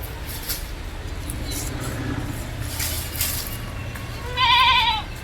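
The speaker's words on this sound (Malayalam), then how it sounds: "നല്ലൊരു ഹൈദരാബാദി ഇനത്തിൽപ്പെട്ടൊരു പടക്കുട്ടി" Hyderabadi breed goat kids, with one clear wavering bleat near the end over a steady murmur of farm background noise.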